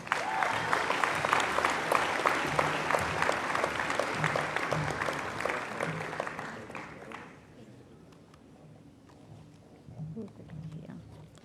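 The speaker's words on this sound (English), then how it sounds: "remember to clap loudly for Hannah Lund and Sam Luke" Crowd applause at a 2020 senior graduation ceremony as two students are welcomed to the stage, a dense, lively clapping that runs strong for about seven seconds, then drops away into quieter room sound with a faint voice.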